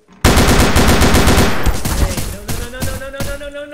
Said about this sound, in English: Pointed a gun right in my face and shot me for no reason.